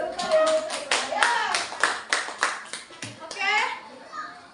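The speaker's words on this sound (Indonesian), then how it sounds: "Tepuk tangan untuk kelompok 4, kelompok tanggung jawab serta ya." Sixth-grade children in an Indonesian classroom clap in a quick rhythmic pattern, a run of loud, evenly spaced claps with children's voices chattering over and between them.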